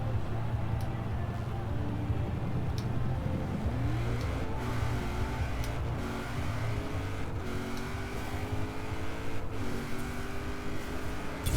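A car in Forza Horizon 4 launches with launch control, its engine roaring loud and steady, then climbing through rising revs and gear changes as it accelerates hard.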